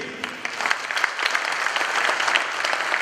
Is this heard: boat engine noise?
no